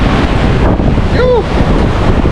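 Sea surf at Muizenberg beach, Cape Town, at high tide, a steady loud wash of waves mixed with strong wind buffeting the microphone, with a brief swooping tone near the middle.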